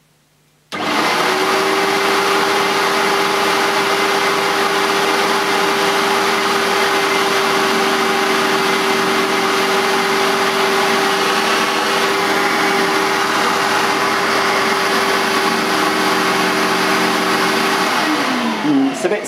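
A Sebo X1 upright vacuum cleaner switches on and drones loudly and steadily with a fixed motor hum while lowering its brush head, then winds down at the very end.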